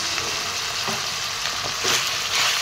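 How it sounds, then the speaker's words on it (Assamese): Meat seasoned with turmeric and salt is stirred and turned in a frying pan, producing a bright sizzle with intermittent scraping strokes of the spoon, louder toward the end. "এইখিনি এনেদৰে লৰাই ল'ম তলপৰ কৰি।"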